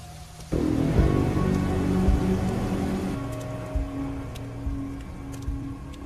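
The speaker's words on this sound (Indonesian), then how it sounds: "Di tengah guyuran hujan deras, Miguel dan Romero kembali melanjutkan aksi pertarungannya" Heavy rain in a film scene, a dense steady downpour that starts suddenly and continues loud and even, with a few soft thuds and bumps underneath and no voices.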